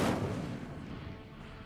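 Incendio fire spell cast in Hogwarts Legacy: a single sharp whooshing burst that swells at once and then trails off into a fading roar.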